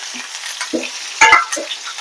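Tempering seeds, crushed garlic and onion frying in oil for a horse gram dal, with short bursts of spattering sizzle and a couple of sharp clinks against the pan.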